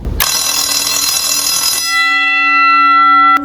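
An automatic timer-controlled bell rings loudly with a harsh metallic clang for about a second and a half, then settles into a steady, sustained tonal ring that carries to the end.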